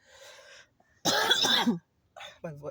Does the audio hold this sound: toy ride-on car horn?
no